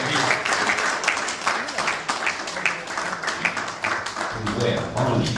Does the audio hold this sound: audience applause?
yes